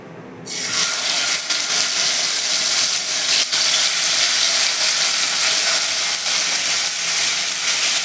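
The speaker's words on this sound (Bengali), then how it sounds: "মাছটাকে আমি ভেজে নেব" Pieces of rohu fish, rubbed with salt and turmeric, fry in hot mustard oil in a wok, giving a loud, steady, dense sizzle that kicks in after a brief quiet start and holds evenly throughout.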